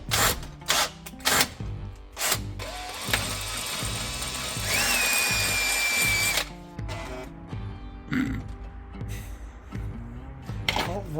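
A power drill spins in short bursts, with a longer whining run in the middle and ratcheting clicks from the chuck between the runs. The sound is close and moderately loud.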